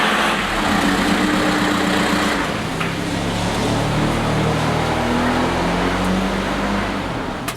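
An old diesel car engine idles steadily under the hood, a continuous close, even rumble with no talking.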